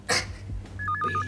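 A brief electronic telephone ring, a warbling two-tone trill starting after a short knock, heard close and fairly quiet.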